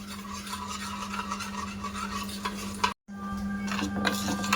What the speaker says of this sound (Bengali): তো চিনি আর ইস্টটা ভালোভাবে মিশিয়ে নেব